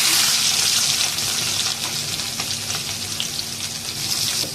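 Garlic sizzles in hot oil for a tempering along with mustard seeds, cumin and asafoetida, a loud continuous crackling fry that stays steady throughout with no talking.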